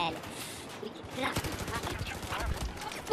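Gunfire in the video game Battlefield 4, rapid bursts of automatic shots and scattered cracks in a busy firefight, with a player's voice talking over the noise.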